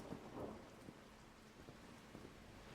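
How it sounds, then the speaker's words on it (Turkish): Rain patters steadily in a soft wash of noise, with a low distant rumble of thunder near the start, in the video game Car Dealership 2. "İlk defa geliyorum yağmura bu arada."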